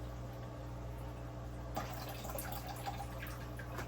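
Water being poured out of a container while sand is prepared for a fish tank: a low steady hum, then a sudden faint splashing and trickling that carries on to the end, with no voices.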